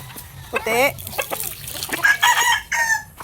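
Several backyard chickens cluck and squawk in short, uneven bursts at close range during feeding, with a little water trickling and a person's voice faintly mixed in.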